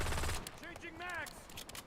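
A short, loud volley of gunfire opens a war-zone scene built in Unreal Engine 5, then fades as a voice speaks over the remaining quieter background.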